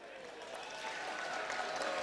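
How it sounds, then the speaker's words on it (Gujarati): An alumni audience at a school reunion meet applauds, with broadband clapping that holds steady and swells slightly for about two seconds, filling the room. "એટલે એક વખત આપ સૌ માટે એકવાર તાળીઓ"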